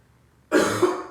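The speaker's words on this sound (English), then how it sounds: "Excuse my cough" After a moment of quiet, a single close, loud cough bursts out during a yoga class, with a rough second push trailing off.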